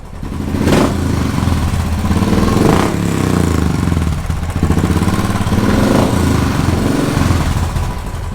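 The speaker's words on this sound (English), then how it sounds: "This is the new exhaust. Let's hear it." A Royal Enfield Classic 500 motorcycle fitted with a ZIFE Custom exhaust idles with a deep, throaty thump, then revs up in three loud blips, the engine close and loud throughout.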